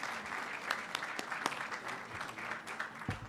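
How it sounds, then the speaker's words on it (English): Audience applause fills a Board of Education meeting room, a steady wash of many hands clapping, fairly close and continuous for a few seconds with no talking over it. "Let's give her a round of applause."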